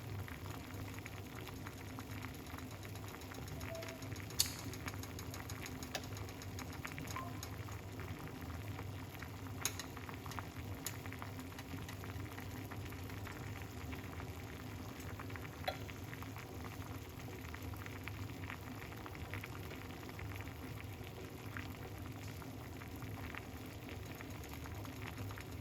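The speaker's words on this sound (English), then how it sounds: "It's boiling up." Rosemary and lemon tea boiling in a pot, a steady continuous bubbling and hiss that holds even throughout, with a few faint clicks and taps now and then and no talking.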